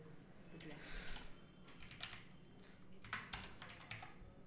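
Keys clatter on a computer keyboard in quick irregular bursts as CSS code is typed, fairly close and moderately loud over a low background hum.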